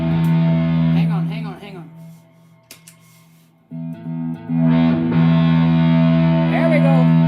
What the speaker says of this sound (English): Let's get some reverb on this.